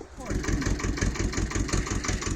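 A farm tractor engine starts up and settles into a loud, rapid, chugging rhythm of evenly spaced knocks, close by, with a voice briefly audible over it.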